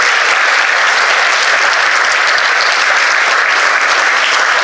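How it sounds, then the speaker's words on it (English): Loud, dense applause from a large audience at a college event, continuous clapping at full volume with no pauses from start to finish. "Please give them a round of applause."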